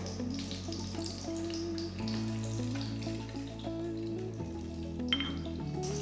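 Food sizzles in hot oil while cooking egg lababdar, a steady close frying hiss under a low droning hum that runs through the whole stretch.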